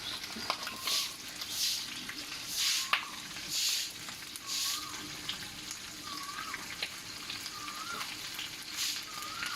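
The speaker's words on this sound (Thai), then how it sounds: "ทอดไปเนี่ยกว่าจะ รีดมันออกก็ ใช้เวลาพอสมควร" Chicken frying in a Teflon pan with a little oil, a steady soft sizzle and crackle heard close and fairly quiet, with recurring brief bursts and faint clinks throughout.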